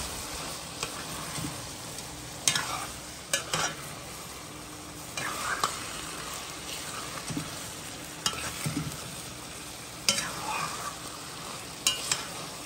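Shrimp and eggplant frying in a pan, a continuous close sizzle with intermittent scraping and clattering as the food is stirred around, no talking.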